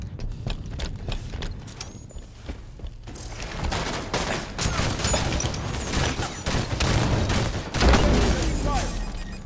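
Rapid bursts of automatic gunfire and weapon shots from a Halo 5: Guardians beta multiplayer match, dense and continuous with sharp transients throughout, busier and louder in the second half.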